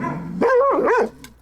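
A Belgian Malinois lets out a short, loud, close bark that rises into a whining, strained yelp, preceded by a low growl and fading quickly.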